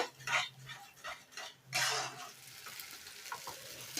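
A spoon stirs vegetarian kofta curry masala with potatoes, the spices and gravy cooking down in a pan, giving several close scraping and sizzling strokes with short pauses between them and no talk.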